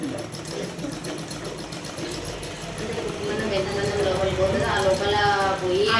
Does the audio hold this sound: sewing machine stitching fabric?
yes